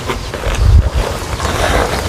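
Strong wind gusting outdoors, buffeting the microphone with a loud, low, rumbling roar that swells sharply in the middle and then settles into a steady rushing blow, with no talking.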